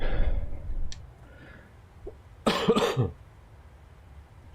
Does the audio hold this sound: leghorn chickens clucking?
no